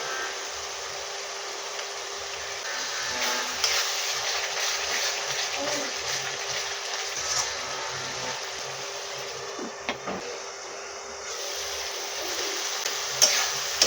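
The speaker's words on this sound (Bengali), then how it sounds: "চাপা দিয়ে দিয়ে কষে নেবো মশলাটা" Spice paste with yogurt and Kashmiri chili frying in oil while being stirred and pressed, a steady close sizzle with scraping and clicking stir strokes throughout, no talking.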